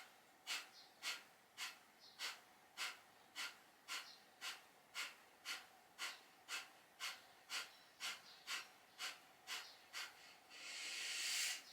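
Kapalabhati yoga breathing: a steady run of about seventeen rapid, forceful nasal exhales, evenly spaced and close, each a sharp puff of air, ending in a longer breath.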